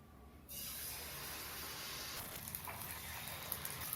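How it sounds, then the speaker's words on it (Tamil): Batter-dipped mushrooms drop into hot oil in a pan and set off a sudden, continuous hissing sizzle that starts abruptly and holds at an even, close level. "வானலில் எண்ணெய் காஞ்செடுத்து ஒன்று ஒன்றா துவைச்சி போட்டு எடுக்கணும்."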